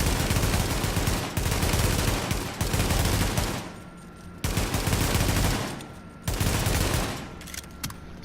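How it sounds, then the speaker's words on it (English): G36 carbine rifle fire in the video game The Division: loud bursts of rapid automatic shots in several strings separated by short pauses, close and punchy, with no voices. "Now let's test this one out again. G36, see?"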